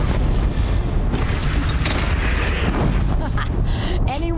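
Cannon fire during a battle against a bandit clan in Horizon Zero Dawn, heavy booming blasts over a continuous rumbling din of combat, loud and dense throughout, with a voice shouting near the end.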